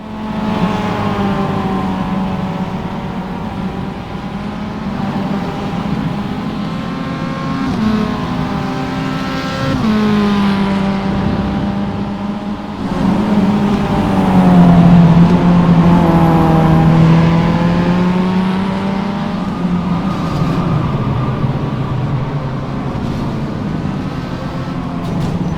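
Race car engine in the iRacing sim racing game, a steady loud drone that rises and falls in pitch through upshifts and downshifts, swelling louder mid-way, with no talk.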